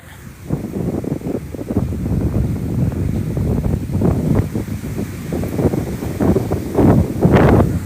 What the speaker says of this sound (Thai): ท้องทะเลขุ่นคลักเลยวันนี้ ลมแรง